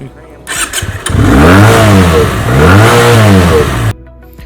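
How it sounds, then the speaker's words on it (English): A Benelli 302S 300cc motorcycle engine revs hard twice, rising and falling in pitch, with a loud raspy exhaust note close by. "No doubt, its exhaust is amazing"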